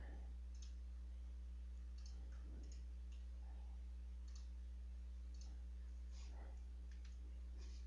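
Computer mouse clicks while working with the spline tool in CAD modeling software: a handful of faint, sharp, irregularly spaced clicks over a steady low electrical hum, with no talking.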